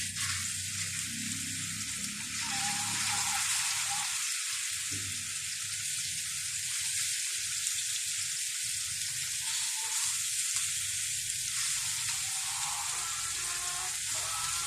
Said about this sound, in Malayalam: ചിക്കൻ ഫ്രൈ ചെയ്യാൻ വേണ്ടിയിട്ട് ഒരു പാനിലേക്ക് കുറച്ച് എണ്ണ ഒഴിച്ച്